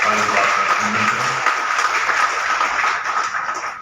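An audience at a City Press Club Faridabad identity card distribution event applauds in a loud, sustained burst that tapers slightly at the end, with a faint voice underneath.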